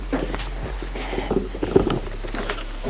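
Goats walk along on a morning outing, their hooves making a steady, moderately close clip-clop of footsteps over a constant low background hum.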